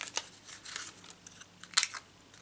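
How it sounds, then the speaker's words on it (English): Scissors snip along the edging of a decorative paper piece during fussy cutting, giving a few soft, close, crisp cuts at irregular intervals with quiet pauses between them. "Before I fussy cut the edging of it."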